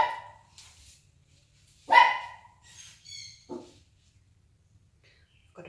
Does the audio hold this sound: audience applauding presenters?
no